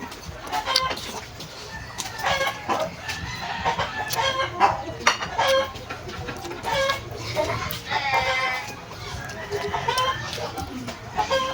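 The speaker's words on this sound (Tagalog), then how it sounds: "Yung mga manok ko pagka alam na nagbibideo ako, sumasabay ah." Several chickens cluck and squawk nearby in an irregular, busy chorus, with occasional louder calls standing out.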